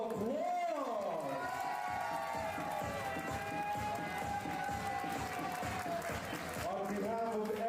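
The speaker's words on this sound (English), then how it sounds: "give all these beautiful, lovely ladies a big round of applause" Guests at a wedding reception applaud the mothers with steady rhythmic clapping and crowd noise, partly masked by a loud sustained musical tone over it.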